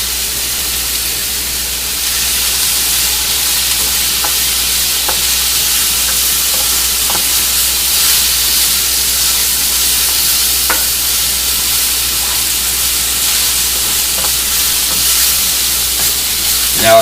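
Chopped onion fries and sizzles in a hot pan, with a steady close hiss and sputter and occasional soft scrapes of stirring throughout, no talk.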